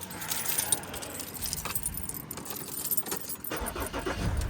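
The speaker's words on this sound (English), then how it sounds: "Car started again, so we're all good." A car's engine cranks and catches after a brief jangle of keys, the motor rumbling louder toward the end amid broad, close-up noise.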